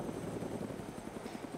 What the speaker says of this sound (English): I love stalling a helicopter.